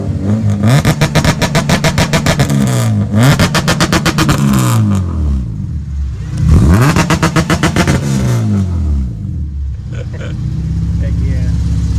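A supercharged Honda K20A2 engine revs hard several times, pitch sweeping up and down, loud and close with steady engine rumble between revs.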